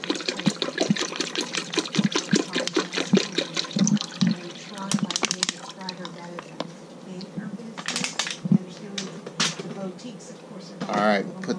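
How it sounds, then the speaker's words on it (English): Water poured into the reservoir of a countertop ice machine in an RV, a rushing, gurgling fill with splashy bursts over about twelve seconds, close by, with a voice talking over parts of it. "We're going to pour some water in."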